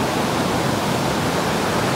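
Intense river rapids at Blakeney Rapids roar as a dense, unbroken rush of churning water, loud and close, steady from start to finish with no voices.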